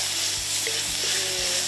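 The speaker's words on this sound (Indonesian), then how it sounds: "Tumis dulu semua bumbu halusnya" Ground spice paste sautés in a hot pan with a constant close sizzle, punctuated by a few soft stirring scrapes.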